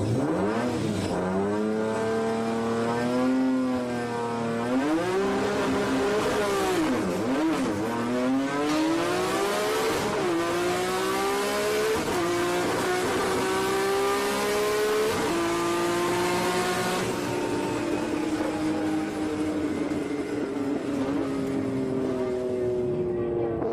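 A Datsun Sunny 1200 with a highly tuned Nissan A series engine revs and accelerates on a drag strip, loud and sustained, its pitch rising and dipping through repeated sweeps with strong harmonics.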